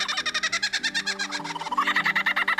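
A lyrebird pours out a rapid run of repeated high, whistling and chattering mimicked notes, steady and close, with a brief change of phrase partway through.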